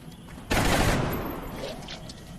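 Gunfire in the turn-based strategy game XCOM Long War, one sharp loud burst that decays into a lingering rumble, with no voices.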